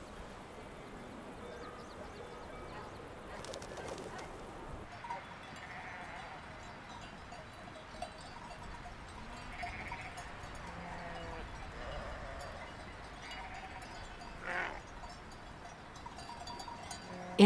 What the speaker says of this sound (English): In summer, sheep are brought from the valleys to graze the alpine pastures.